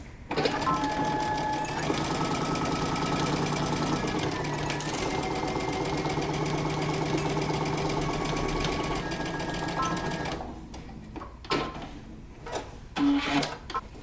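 A sewing machine runs steadily for about ten seconds, stitching a 5/8-inch seam on a Simplicity 8093 jacket. It sounds close and continuous, then stops, leaving a few brief handling clicks and rustles.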